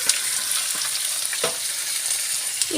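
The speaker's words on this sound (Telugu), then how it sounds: "ఇప్పుడు మనం వేయించుకున్న ఈ తాలింపులో మనం కట్ చేసి పెట్టుకున్న దొండకాయలు వేసేసుకున్నాం" Cut ivy gourds, home-grown, fry in an oil tempering. A close, steady sizzle is broken by a few soft stirring knocks in the pan.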